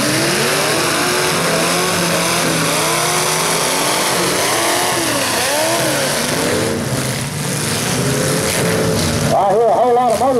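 Full-size cars rev their engines at a 2019 Scott County night demolition derby heat, a loud, continuous roar of several motors rising and falling in pitch, with a fresh burst of revving near the end.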